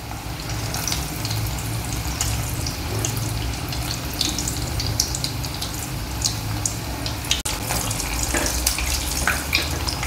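Cheese corn balls deep-frying in hot oil over a high flame, a steady, dense crackle and hiss that runs unbroken and fairly loud throughout, with no voices.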